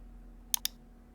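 Two crisp mouse clicks in quick succession, close and clear against a quiet room hum, as the sign-in button is pressed during an Outlook account login.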